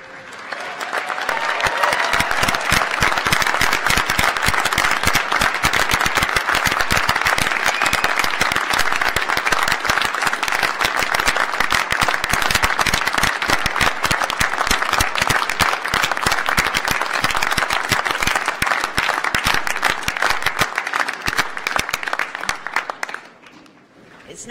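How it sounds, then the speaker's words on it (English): Graduates at a winter graduation ceremony break into a long, dense round of applause. It stays loud and steady for over twenty seconds, then drops off quickly at the end. "That you all gave each other a spontaneous round of applause there"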